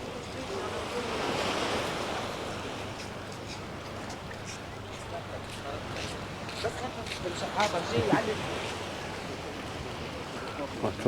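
Sea waves wash ashore at a blue flag beach in Kato Paphos, a soft continuous surf rush mixed with gusty wind on the microphone, while someone talks over it.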